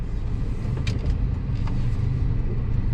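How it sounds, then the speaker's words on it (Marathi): Cars pass on a city road in Ratnagiri, where part of the street is closed for roadwork. A continuous low rumble of nearby traffic runs throughout, with a couple of brief higher squeaks and no voices. "आणि इथे गाड्या आहेत मागे।"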